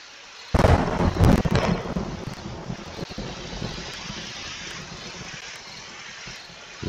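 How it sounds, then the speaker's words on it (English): A thunderstorm in 7 Days to Die breaks with a loud sudden crack and rolling thunder, then settles into steady rain and wind noise that continues to the end. "I'm still getting a dramatic lightning effect."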